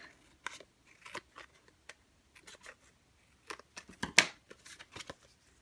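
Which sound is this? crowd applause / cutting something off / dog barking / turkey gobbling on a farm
cutting something off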